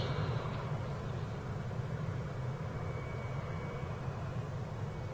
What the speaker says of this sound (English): This might just be a simple taxi run for this aircraft.